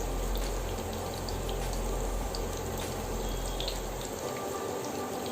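Coriander pakoras frying in hot oil, a dense, steady crackling sizzle that fills the whole moment, close and fairly loud, with no speech.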